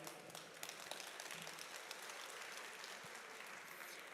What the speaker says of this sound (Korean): 회장님께 다시 한번 뜨거운 박수 부탁드립니다.